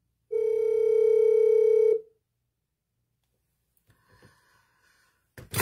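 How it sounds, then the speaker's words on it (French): A mobile phone rings for an incoming call, a loud sustained electronic tone lasting under two seconds, then near silence with faint handling noises and a brief sharp sound at the end. "voilà mon mari qui appelle."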